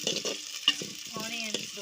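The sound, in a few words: stirring onions and curry leaves frying in a pan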